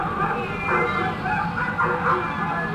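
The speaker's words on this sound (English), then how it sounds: "I couldn't find much aside from one household hoarding a bunch of cats and dogs." Several cats meow in overlapping calls inside a house in the video game Bully, a few repeated mews close by with no talking.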